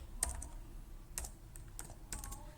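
Typing on a computer keyboard: quiet clusters of quick clicking keystrokes in three or four short bursts, alone with no talking.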